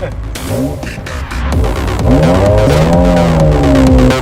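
Classic JDM car engine blipping up and down at close range, a loud rising and falling rev, with a brief lower-pitched rumble before it climbs.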